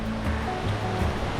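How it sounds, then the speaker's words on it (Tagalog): Water rushing along a wide river in rural Nueva Vizcaya, a steady broadband wash with low churning tones, close and continuous with no voices. "Naririnig nyo ba yung tunog ng tubig?"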